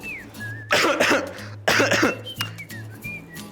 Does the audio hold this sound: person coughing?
yes